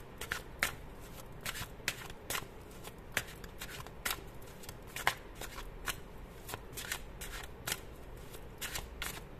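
Tarot cards being shuffled, a steady run of crisp riffling flicks and sharp snaps repeating at close range under a quiet background hiss, with no talking.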